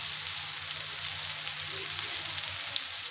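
Dried mango pieces sizzle steadily in hot oil for a pickle, a soft, continuous frying hiss with faint crackles and no talking.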